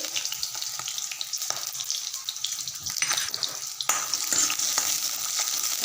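Onion frying in a little oil in a hot kadhai, a steady close sizzle broken by stirring scrapes and taps that grow louder toward the end, with no one speaking.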